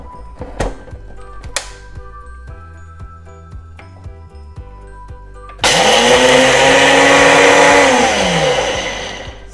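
Roasted gram (fried chickpeas) goes into a kitchen mixer grinder to be powdered for a festival sweet. A few clinks and small knocks come first, then a loud, whirring motor roar that runs for several seconds and winds down at the end.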